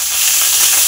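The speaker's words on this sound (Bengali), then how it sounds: "এবার কড়াই পেঁয়াজ দিলাম" Onion paste hits a hot wok with a loud, close, sustained sizzle and hiss of frying oil, steady throughout with no voices.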